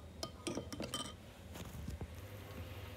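Coconut milk and warm water mixture being stirred for taro sweet soup, a spoon clinking and scraping against the bowl in a quick irregular run of close, soft taps, then quieter swirling, with no talk.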